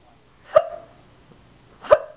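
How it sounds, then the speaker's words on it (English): Two sharp, short hiccups sound about a second and a half apart, each a quick clipped gulp at close range in an otherwise quiet room. "do you have the hiccups?"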